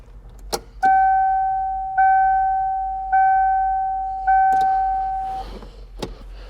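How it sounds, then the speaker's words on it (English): An electric fuel pump on a project car with a newly installed engine buzzes in four steady tonal bursts of about a second each as the ignition key is cycled, with a few clicks before and after. "Let's see if cycling the key to run will cycle the fuel pump."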